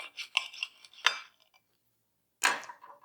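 Knife slicing through a rolled, loaded vegan wrap on a cutting surface, a few short crisp cutting strokes and taps, close and fairly faint, separated by a brief silence.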